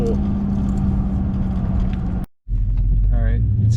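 A cammed LQ4 6.0 V8 with no tune idles at a stop with a deep, steady, lumpy rumble up close, briefly cut off for a moment before resuming.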